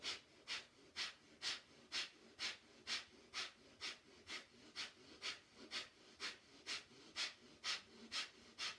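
Rhythmic breathing during a Kundalini yoga exercise, steady sharp breaths through the nose repeating about twice per second, close and fairly quiet, with no talk.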